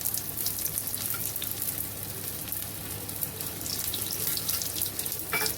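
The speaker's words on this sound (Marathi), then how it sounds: "आता थोडंसं परत आपल्याला तेल सोडायचंय आपण छान परत तेल सोडणार आहोत" Wheat flour paneer cheese baati fry in oil, giving a loud, continuous crackling sizzle that holds steady for the whole stretch.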